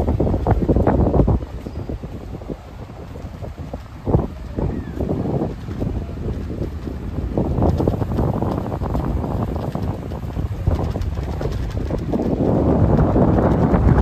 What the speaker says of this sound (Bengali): হাওয়া হচ্ছে মারাত্মক মারাত্মক হাওয়া হচ্ছে।